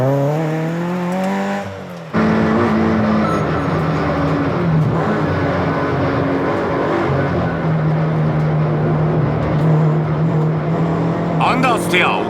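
A lightened GR86 engine revs hard and shifts through gears on a mountain pass, rising and falling in pitch as it accelerates, loud and close, with a brief squeal near the end.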